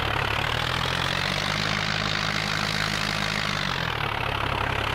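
Steady tractor engine from the video game Farming Simulator 2011, a continuous low droning hum that holds evenly throughout and dips slightly near the end, with no talking.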